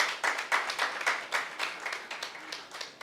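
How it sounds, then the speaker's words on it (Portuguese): Audience applause during a municipal council session, a modest, fairly close round of clapping with individual claps audible in an uneven rhythm for about three seconds. "pedir uma salva de palmas para a nossa amiga Ana."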